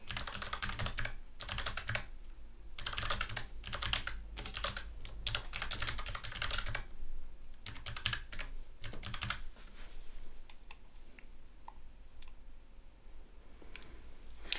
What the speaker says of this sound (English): we'll type values in each of these inputs